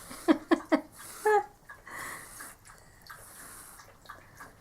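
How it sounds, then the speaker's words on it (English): A pet dog laps water from her bowl in a quick burst of wet slurps, followed by a few quieter splashes and faint breathing nearby. "And that is my dog drinking her water."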